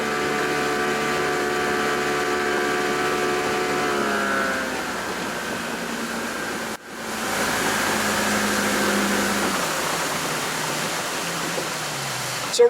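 Outboard motorboat engine running steadily while the boat is driven on open water, a continuous close drone with harmonic whine that shifts pitch as the throttle or trim changes, with a brief dip midway and water rush throughout.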